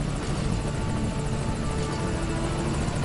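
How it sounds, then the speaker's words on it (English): A helicopter arrives in Metal Gear Solid V Ground Zeroes, its rotor throbbing continuously and loudly at close range with a dense buzzing engine drone, alone without any talk. "I think that's a good chopper coming after me"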